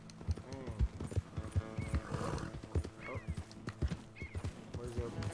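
Galloping horse hooves in the video game Red Dead Redemption 2, with a rapid rhythmic clip-clop and neighs from several horses while roping a mustang on open plains, heard under a person talking.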